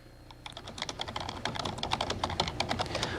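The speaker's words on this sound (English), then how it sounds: "Typing in a report here." Rapid, steady typing on a computer keyboard in a television news studio during tornado warning coverage, close and fairly quiet, with clustered keystrokes and a faint hum beneath and no talking.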